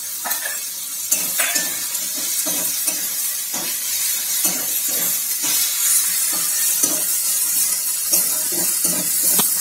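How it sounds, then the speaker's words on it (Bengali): Garlic paste and ginger paste frying in hot oil for a pea ghugni make a loud, continuous hiss and sizzle, broken by regular scraping and stirring strokes. "রসুন বাটাটা দিয়ে একটু খুব ভালো করে মেরে কেটে ভেজে নেবো"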